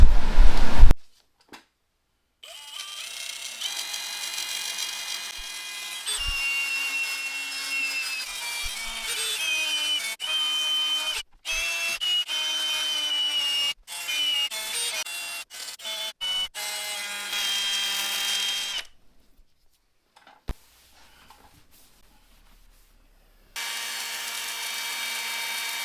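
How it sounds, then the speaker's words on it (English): Dry sanding of plastic car headlights with 500 grit sandpaper, a steady whirring, scrubbing sound that runs in long stretches, broken by short pauses and a longer break near the end. No one speaks. "we're going to start with the 500 grit. So this is going to be dry sanding."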